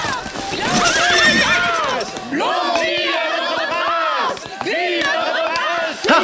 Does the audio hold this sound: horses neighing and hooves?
yes